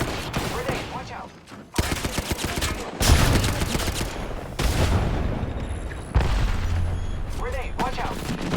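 Grenade blasts and bursts of gunfire from an Apex Legends firefight, with several sharp loud impacts and rattling shots spread across the stretch, and players talking over the action.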